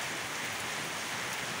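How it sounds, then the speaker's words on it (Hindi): Heavy rain in Murree pours down steadily, a dense, even hiss of falling water with no pauses, heard alone without voices. "और बारिश वाकई बड़ी स्पीड में हो रही है जी"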